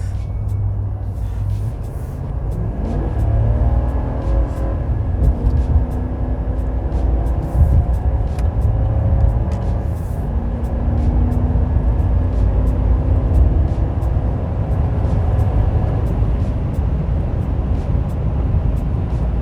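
A loud, steady low engine roar from inside a Chevy 2500 pickup with a 6.6L gas L8T engine accelerating on a highway, rising slowly with road rumble and a faint whine throughout.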